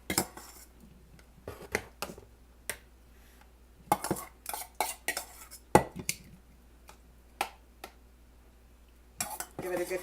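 A utensil spreads barbecue sauce over a keto meatloaf in a dish, producing scattered close scrapes, clinks and taps at irregular intervals against a quiet background.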